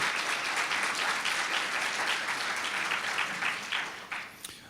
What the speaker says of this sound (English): Let's just have a round of applause for that important legislation.